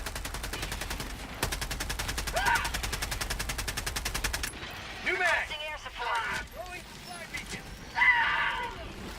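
Liberator assault rifle in the video game Helldivers 2, firing a long rapid automatic burst of evenly ticking shots, then scattered shorter bursts and impacts. Voices talk over much of the firing.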